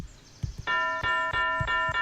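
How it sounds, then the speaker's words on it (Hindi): A bright, ringing school bell sounds in three or four repeated strokes, each chime sustaining before the next, loud and close with some low background bumps. "हाँ घंटी बज गई"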